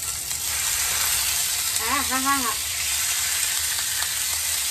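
Steak seasoned with garlic powder, pepper and salt fries in hot oil in a skillet, making a loud, continuous, close-up sizzle. A brief voice-like sound rises in the middle.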